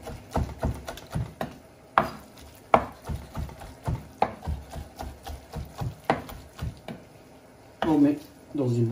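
Lamb meat is finely chopped with a knife in a quick, irregular series of sharp thuds on a cutting board, with occasional squishy pauses.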